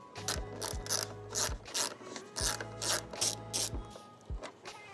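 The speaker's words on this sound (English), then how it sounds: "These 2 center bolts in the middle, remove those bolts." Ratchet clicking as headlight bolts come off a KTM 990 RCR motorcycle, close and loud, in repeated bursts of rapid pawl clicks with short pauses between strokes.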